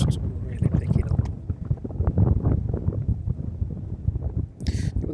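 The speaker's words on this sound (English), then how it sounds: "gusts really picking up." Strong gusting wind at East Midlands Airport roars and buffets the microphone in a dense low rumble throughout, swelling and easing in waves with a brief hiss near the end.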